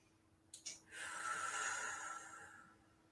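A slow, deep breath drawn in through the nose, one steady airy inhale lasting about two seconds after a couple of short sniffs, close and fairly quiet.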